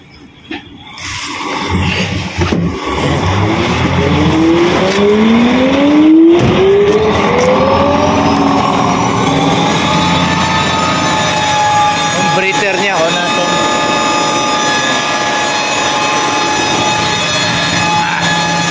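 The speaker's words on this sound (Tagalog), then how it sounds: "On natin yung compressor." The compressor on a silo truck starts and spools up, rising in pitch over several seconds, then settles into a loud, steady mechanical drone.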